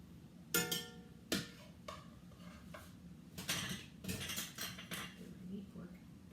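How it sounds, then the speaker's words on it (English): Metal utensils clink and knock sharply against a pot and a cutting board as a braised corned beef brisket roast is lifted out; the clatters come in several separate bursts, close and moderately loud. "I'm going to take the roast out and I'm going to put it on this cutting board."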